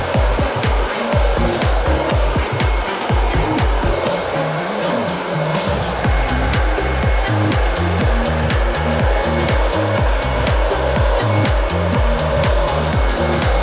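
A heat gun dries screen-printing ink on a bag from about 10 cm away, giving a loud, steady blowing whir that runs unbroken and alone.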